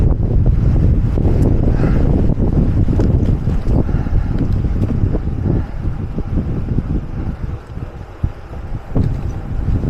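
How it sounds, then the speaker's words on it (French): Strong wind in the Gorges de Galamus buffeting the microphone with a loud, continuous low roar and gusty rumbling throughout. "Oh le vent."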